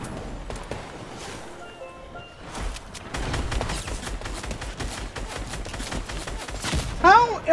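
A SCAR rifle fires in Fortnite in rapid repeated shots with sharp cracks, a dense stretch of gunfire and impacts that holds for several seconds, with game effects ringing out at the end.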